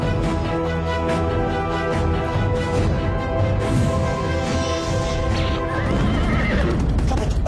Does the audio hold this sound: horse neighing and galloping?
yes